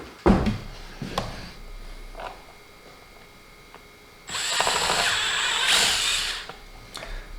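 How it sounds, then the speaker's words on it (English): A power drill boring an 11/64 hole into a 2022 Kawasaki KLR650 motorcycle, a brief whir at first, then a steady, fairly close drilling whine for a few seconds. "I'm being super careful not to go too far in with the drill."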